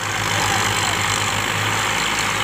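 Indo Farm 2050 tractor, a 2006 model, with its diesel engine running steadily at a low, even throb, loud and close with no talk over it.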